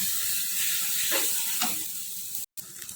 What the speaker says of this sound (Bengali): এবার চিংড়ি মাছের সাথে মশলাটাকে ভালো করে কষাতে হবে